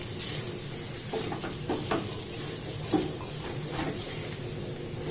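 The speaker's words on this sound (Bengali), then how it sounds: "গ্যাসের ফ্লেমটাকে লো রেখে এটাকে এইভাবে নাড়াচাড়া করে মিক্সড করে নিতে হবে" Ingredients are stirred and mixed in a pan over a low gas flame, soft scraping strokes and light clinks of a spoon over a quiet, continuous sizzle.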